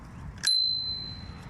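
A bicycle bell gives a single bright ring that lingers and fades over a quiet background.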